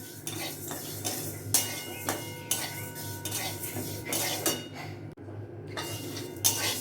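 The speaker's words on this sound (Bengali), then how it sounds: "এবার ডালটা আমি একটু ভেজে নেব, লাল করে ডালটা ভেজে নেব" Moong dal being dry-roasted in a wok, with repeated scraping and stirring strokes of a metal spoon against the pan over a soft continuous sizzle, close and fairly loud, no talking.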